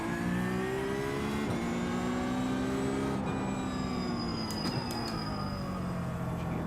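A car engine revs steadily in second gear while driving, held at low RPM for traction, a continuous close drone that rises and falls slightly in pitch throughout.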